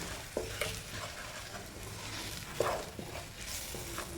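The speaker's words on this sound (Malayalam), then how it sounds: "ഇതെല്ലാം കൂടെ മിക്സ് ചെയ്യാം" Spices stirred together in a pan while making sardine pickle, with soft scraping strokes and a faint sizzle under a steady background hiss, a few sharper clinks standing out.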